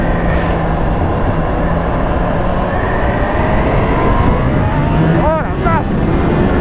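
A Kawasaki H2 SX SE, a 210-horsepower supercharged motorcycle, accelerating under boost: a steady loud engine and wind roar with rising whine tones near the end, heard from the rider's position.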